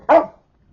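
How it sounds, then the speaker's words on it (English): A dog gives a single sharp, loud bark, close by, that cuts off quickly into silence. "dog."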